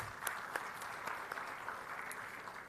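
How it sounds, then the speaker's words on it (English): An audience at a textile industry roadshow in Mumbai gives a round of applause. The steady, even clapping holds at a moderate level for the whole stretch. "A big round of applause for them"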